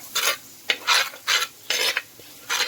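A spoon stirs coriander-powder masala in a pan for a sardine curry, giving about six close, rhythmic scraping strokes with brief pauses between them and no talking.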